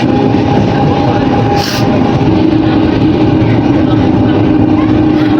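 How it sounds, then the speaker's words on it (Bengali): Inside a moving passenger train carriage on a cold evening ride, a loud steady rumble and rattle of wheels on track fills the space, with a brief faint hiss partway through. "ট্রেনের আওয়াজে না হয়তো তোমাদের শুনতে একটু প্রবলেম হবে।"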